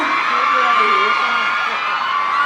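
A large crowd at a celebration event screams and cheers continuously in a loud, sustained roar, with high shrieks running throughout.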